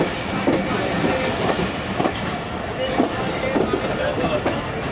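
A Pakistani passenger express between Faisalabad and Lahore, heard from inside the third coach behind the locomotive, with a steady rumbling roll and faint periodic clickety-clack of wheels over rail joints at an even pace.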